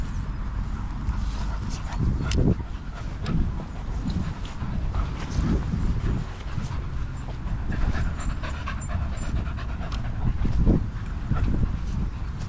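Dogs playing and chasing on a walk, heavy close panting and scuffling paws throughout, with brief faint whimpers and occasional light voices.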